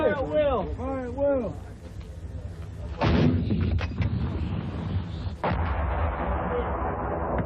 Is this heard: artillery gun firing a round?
yes